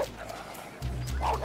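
A person imitates a barking dog, giving a few short woofs that come after a brief lull.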